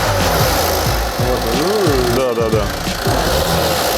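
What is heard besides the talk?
abnormal noise from Opel Corsa engine, suspected timing chain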